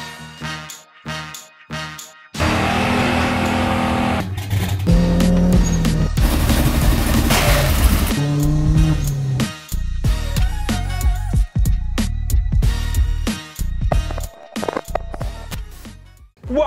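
A turbocharged 1.8 liter Chevy Cruze with its boost turned up roars loudly through long sustained pulls, revving up and down with sharp breaks and choppy bursts in between.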